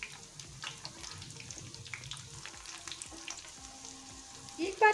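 Potato tikki kebabs fry in hot oil with a faint, continuous crackling sizzle, low and close, ending in a brief louder clatter.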